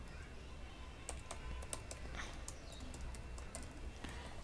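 Keys of a computer keyboard are tapped in quick, uneven bursts at a desk, quiet against a steady background hiss, with a few bird chirps and coos faintly outside.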